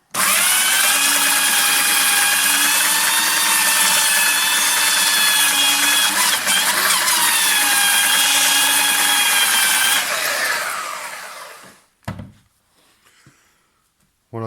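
An Einhell TE-BS 8540 E belt sander runs at full power with a loud, steady whine and grinding roar for about ten seconds, then winds down and stops, leaving a few faint knocks.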